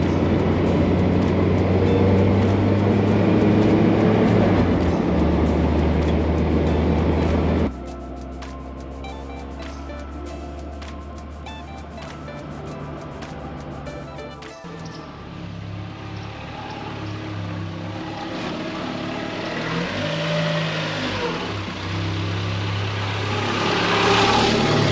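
Steady interior drone of a car being driven on a morning road, a constant low engine and road rumble that changes character partway through and swells again toward the end, with no talking.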